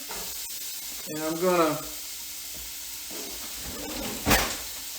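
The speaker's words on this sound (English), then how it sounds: "I'm going to get my onions started and my celery started" Onions and celery start frying in a pan, a steady soft sizzle running under a voice, with a couple of brief louder crackles and spits.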